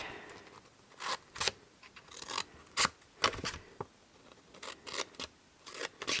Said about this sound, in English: I think these were the scissors I retrieved from Oliver's bedroom the other day.